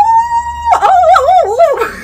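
A human voice imitates an Indian war cry: a long steady held tone that breaks into a rapid warbling, wavering whoop, loud and close, lasting a couple of seconds.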